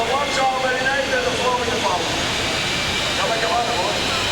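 Whispering Angel, a roughly 4,000-horsepower tractor pulling machine at a 1996 indoor European tractor pulling event in Zwolle, roars continuously as a loud, dense engine blare, with a commentator talking over it.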